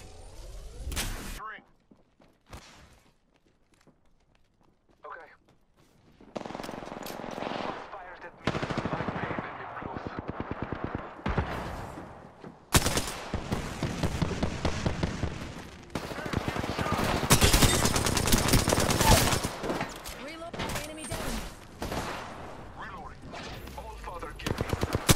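Rapid bursts of automatic gunfire and shots in a video game match, loud and dense in stretches, with game voice lines and sound effects mixed in between the volleys.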